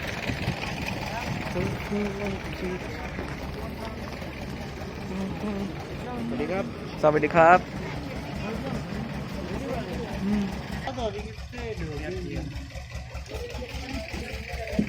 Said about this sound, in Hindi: इसको हम लोग लॉन्ग टेल बोट बोलते हैं। इसका इंजन आप देख सकते हैं, प्रोपेलर आगे लगा है।